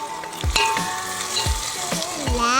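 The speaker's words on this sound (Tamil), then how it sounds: "கட் பண்ணி வச்சிருக்க தக்காளியை சேர்த்து நல்லா வதக்குங்க" Chopped tomatoes sautéing in a pan for mushroom biryani, a continuous close sizzle with repeated rhythmic stirring knocks and scrapes about once a second.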